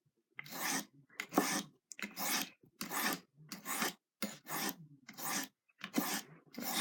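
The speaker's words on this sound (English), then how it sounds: "So this finer stone, you're probably gonna want to get it pretty darn sharp" A knife drawn repeatedly across a finer sharpening stone, about ten crisp, evenly spaced rasping strokes separated by brief pauses, close and clear with no talk.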